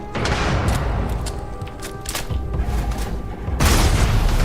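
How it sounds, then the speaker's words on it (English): A grenade detonates in the space game Starfield: heavy, booming blasts with crackling rolling debris, one loud burst opening and another at the end, over continuous battle noise. "Grenade!"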